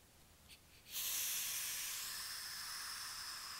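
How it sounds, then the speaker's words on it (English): A sudden steady rush of air into a woodworking vacuum bag through its valve begins about a second in, a loud continuous hiss that holds evenly to the end after near silence. "Just toggle this little nipple in the center to one side and you'll hear the air rush back in."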